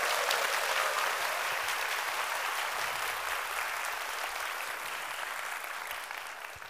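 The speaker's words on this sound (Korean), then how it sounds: "다시 한번 박수 보내주십시오" An audience applauds during a lecture on youth jobs in agriculture, a steady wash of clapping that stays even and fairly distant, fading slightly toward the end with no talking over it.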